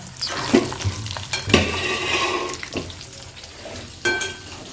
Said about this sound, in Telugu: ఇదైతే ఇప్పుడు వేగుతున్నాయి బాగా.